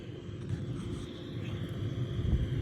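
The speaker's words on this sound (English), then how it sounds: "there's the airplane guys. They're going back to get ready to go spray cover crop." A crop-spraying airplane drones over a farm field with cut corn, its engine a low, steady, fairly faint rumble that swells slightly toward the end.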